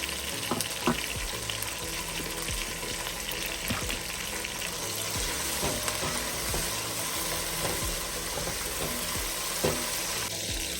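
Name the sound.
whole garam masala spices frying in oil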